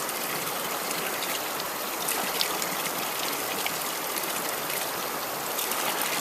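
Spring water pours steadily from a spout at a roadside bamboo-forest car wash, a constant close rushing splash with no pauses or voices.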